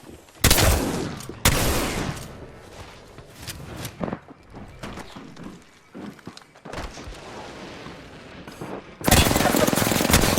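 Gunfire in the video game Apex Legends, loud bursts of automatic fire at the start and end with scattered shots, impacts and footsteps in between, close and intense.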